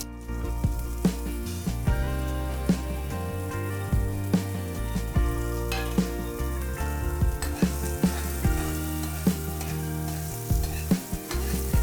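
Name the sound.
green chillies and fennel sizzling in hot tempering oil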